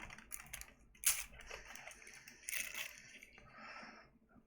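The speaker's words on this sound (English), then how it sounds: "I'll rip my page out right now." A New Testament page ripped out of a Bible, giving a series of close, crackling paper tears with a sharper rip near the middle and more tearing toward the end.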